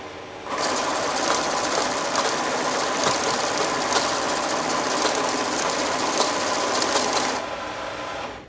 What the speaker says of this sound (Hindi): मशीन ने कैश में सबसे पहले नंबर पे एंटर होने वाले डिनोमिनेशन को सेट करके दूसरे सब डिनोमिनेशन को रिजेक्ट पॉकेट में अलग कर दिया